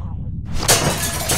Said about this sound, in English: Use the bat to shatter that window so you can reach in